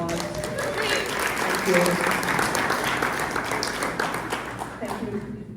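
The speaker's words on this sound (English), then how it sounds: "Can we give them another round of applause?" Applause fills a city luncheon in San Juan Bautista: steady clapping from a crowd at a State of the City event, sustained for several seconds while a speaker's voice comes through over it.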